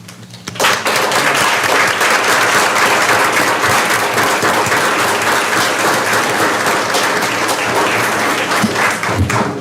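A school board meeting audience breaks into steady, sustained applause that fills the room for nearly the whole stretch, dense and fairly loud, with no talking over it.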